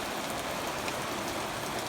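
Steady rain falling outdoors on a wet day by a stream and culvert, a continuous dense hiss of drops at an even level with no pauses, and nobody talking.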